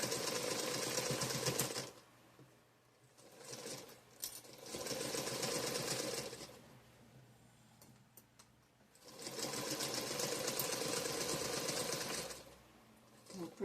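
A green and purple Featherweight sewing machine stitches the hem of a girl's dress in three steady, whirring bursts of rapid needle chatter, separated by short quiet pauses, close and alone.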